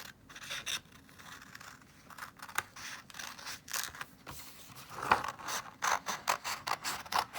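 Scissors snip through paper to cut out an octopus face, making a series of close, crisp cuts that quicken into a rapid rhythmic run toward the end, with no talking.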